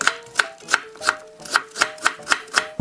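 A knife cutting peeled pear into thick julienne strips on a board, about ten crisp, evenly spaced chops in a steady rhythm, close and clear with nothing else heard.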